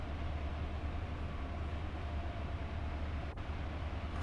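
An HST diesel train runs in Train Sim World 4, a steady low engine drone and rail rumble holding at even loudness throughout, with no talk.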